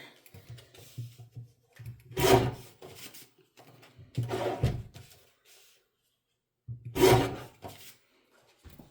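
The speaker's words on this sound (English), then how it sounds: "so now I've trimmed the ends" Paper junk mail being trimmed at the ends on a small workspace, giving three distinct rasping cutting bursts separated by quieter handling rustles, close and fairly soft, with no talking.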